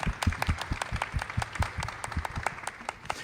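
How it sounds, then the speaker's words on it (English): A room of attendees at a chamber of commerce Power Women event gives a round of applause: dense, steady hand clapping with sharp individual claps, close and fairly loud throughout. "And you should give yourselves all a round of applause"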